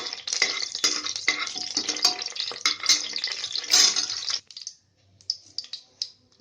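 Cloves and bay leaves fry in hot oil over a high flame, a dense crackling sizzle with scattered clicks and stirring scrapes for several seconds, then dropping to sparse, quieter pops near the end.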